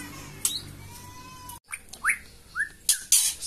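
A white-rumped shama sings a series of clear whistles and sharp rising chirps, bright and nearby, with brief pauses between phrases.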